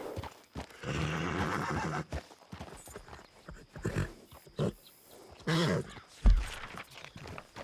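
Horse whinnies and clip-clopping hooves ring out in a Western video game, loud and close, with bursts of neighing and hoofbeats that stop and start, under a faint voice now and then.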